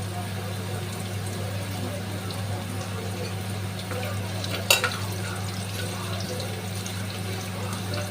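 Asafoetida and garlic fry in a little oil for a rustic Maharashtrian jackfruit vegetable dish, a soft, even sizzle over a constant low hum, broken by one brief metallic clink midway.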